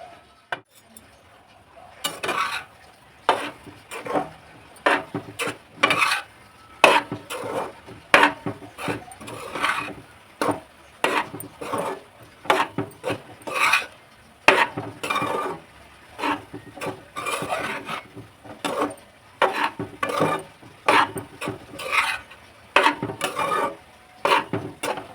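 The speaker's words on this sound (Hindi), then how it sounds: "इसमें जितना भी हमारा कसार है इसको डालकर हम घी में अच्छी तरह से भूनेंगे" Kasar roasting in warm ghee is stirred with a spoon, repeated scraping and clinking strokes against the pan in an irregular rhythm, close and moderately loud with no voices.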